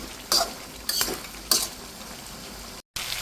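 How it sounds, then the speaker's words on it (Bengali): A spoon scrapes through papaya cooking in a pan with a pangas fish head, three distinct stirring strokes over a steady, close sizzle of frying liquid. "পেঁপেটা একটু নেড়ে চেড়ে দিচ্ছি"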